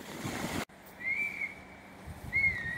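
Two thin, high whistling bird calls, faint and a little distant, over a soft outdoor background hiss after an abrupt cut, by the water on Alaska's Kenai Peninsula.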